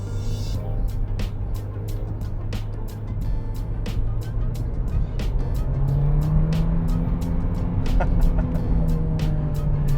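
A VW Golf GTI MK3 hot hatch laboring uphill around 3,500 RPM, its engine a steady droning hum with a rising whine later, alongside a rhythmic run of sharp ticking clicks throughout, heard from inside the car.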